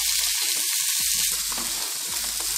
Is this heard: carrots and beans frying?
yes